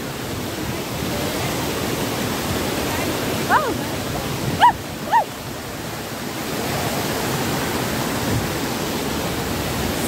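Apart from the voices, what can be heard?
waterfall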